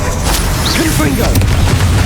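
Booming fire blast from the Confringo spell in Hogwarts Legacy amid dense, loud game combat noise, with a brief voiced shout mixed in.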